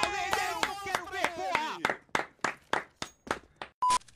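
Several quick handclaps ring out one after another in the second half, loud and close, during a lively esports Major livestream. Excited talk and vocal sounds come just before the claps.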